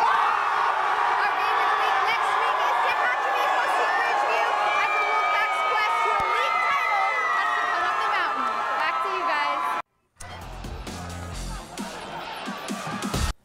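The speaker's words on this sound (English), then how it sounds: "not sure you could hear it over all the screaming" Dense, loud crowd screaming and cheering fills the stands at a high school homecoming football game, Tehachapi hosting Ridgeview, a continuous roar that cuts out briefly near the end before resuming.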